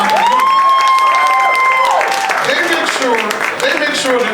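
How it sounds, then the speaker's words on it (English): An audience at a World AIDS Day commemoration applauds and cheers, with a sustained bright whoop and mixed crowd voices over steady clapping. "And that growth deserves a round of applause"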